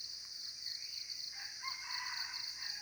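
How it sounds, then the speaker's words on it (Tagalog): A wild junglefowl rooster sits in a tree and crows faintly from some distance. The call stands thin and alone against a quiet outdoor background at dawn. "Hindi pa rin bumaba yung alpas, tumitilaok pa rin sa itaas ng kahoy"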